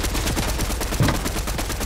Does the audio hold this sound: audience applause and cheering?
no